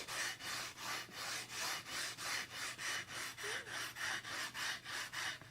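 Frets on a Squier guitar neck being leveled, steady back-and-forth rasping strokes in an even rhythm, about three per second, quiet and close with no talking.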